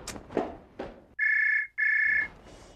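A telephone rings indoors in a Marathi TV drama household, two steady electronic ring bursts, loud and close, following a few brief rustling noises.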